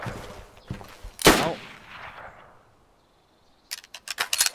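Gunfire in the game DayZ: one loud close shot with a rolling echo, a few fainter shots around it, then a quick burst of sharp cracks after a short lull.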